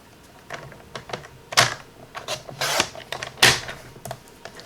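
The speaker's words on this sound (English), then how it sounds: "let's grab our trimmer. And what I'm going to do is I'm going to cut" A paper trimmer working on cardstock for triangle cards, heard as a close series of sharp clicks, taps and sliding swipes in an irregular rhythm, with several louder strokes among them.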